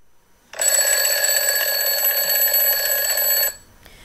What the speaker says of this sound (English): Brrr, went the alarm clock.